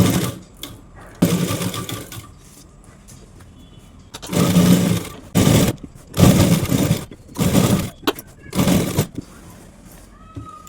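An electric sewing machine stitches the side seam of a readymade nighty. It runs in several loud whirring bursts of about a second each, separated by quiet pauses, with a person talking softly between runs.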